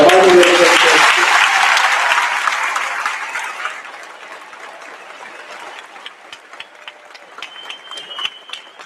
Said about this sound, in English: I'd like to have one more round of applause for our Marvin Ridge.